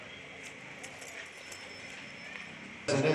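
Hooves of a horse clip-clop in a ring, a faint, regular tapping gait running steadily beneath an ambient hum, until a sudden loud burst of noise cuts in at the end.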